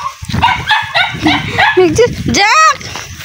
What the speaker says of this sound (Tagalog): Yun yung aso ko.